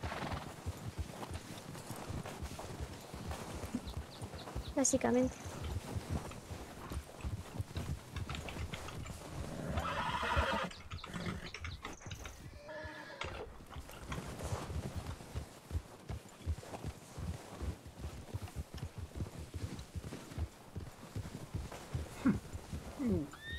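Rhythmic clip-clop of several horses' hooves galloping through snow in a 1920s-set roleplay video game, with whinnies mixed in and voices speaking over the hoofbeats.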